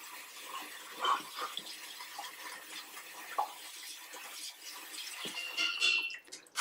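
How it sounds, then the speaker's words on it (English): Cold tap water running steadily over soba noodles being rinsed, a soft, continuous splashing close by with small clinks, no voices. "Rinse the soba well in cold running water."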